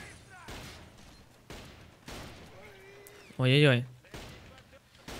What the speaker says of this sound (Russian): Почему он так стреляет? А, с СКСа